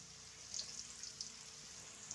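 Festive snacks deep-frying in hot oil, a faint, steady bubbling sizzle with a few small sharp crackles, heard alone at a low level.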